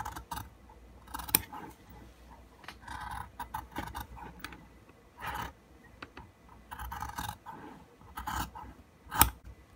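Scissors snip through fabric around sewn scallops, a series of soft, close crisp clips at an uneven pace with quiet pauses between cuts.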